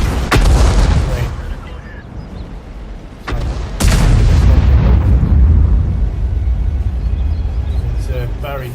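SPG artillery in World of Tanks fires in several loud, deep booms, each followed by a rumbling decay, with a sharper crack near the start and a heavy blast midway.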